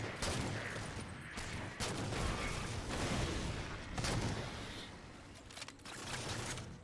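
Shotgun blasts in Halo 4 ring out amid a busy firefight, several loud booming shots spaced a second or so apart over continuous gunfire and rumble, no speech.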